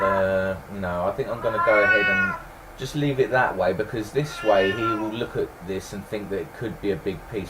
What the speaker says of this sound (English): Please excuse the cat meowing there